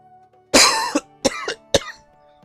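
A person coughs close by in three sharp bursts: one long harsh hack followed by two shorter coughs, loud against near silence, with no talking.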